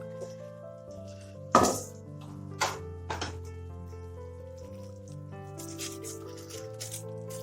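Jaggery syrup poured over puffed rice and stirred in a pot, giving a few sharp metallic clinks and scrapes against a steady low background, with softer rustling stirring between them.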